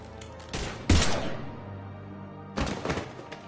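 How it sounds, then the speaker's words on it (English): Gunfire in the video game Mass Effect 3: two loud bursts of shots, the first around the one-second mark with a heavy thump and a decaying tail, a second burst near the end, with quieter ambience between. "Now open fire!"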